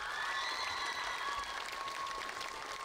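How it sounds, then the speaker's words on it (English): At a school performance showcase, an audience gives a fairly faint, steady round of applause that holds at an even level for a few seconds. "Let's give them one more huge round of applause."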